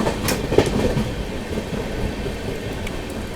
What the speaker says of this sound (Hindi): सामने से आ रहे दोस्तों आप लोगों की नई दिल्ली से चलकर दरभंगा की ओर जाने वाली बिहार संपर्क क्रांति सुपरफास्ट एक्सप्रेस